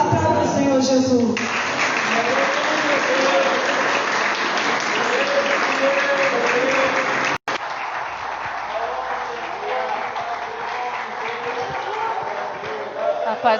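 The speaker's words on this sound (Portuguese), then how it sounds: "Aplauda o Senhor Jesus." A church congregation claps through a worship service in Avaré, a dense, steady wave of applause filling the room for several seconds before easing under other voices and sound.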